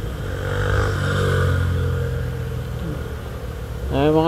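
Motorcycles pass on a countryside road near Ipo Dam, an engine drone rising and fading in the middle distance, with another engine building loudly at the end, and someone talking intermittently.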